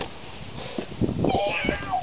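A cat meows a couple of times at close range, with soft background noise throughout.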